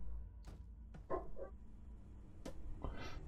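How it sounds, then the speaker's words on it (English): A dog barks faintly in a home, giving a few short, muffled yips and barks spread across a few seconds against a low background hum. "I hear you barking."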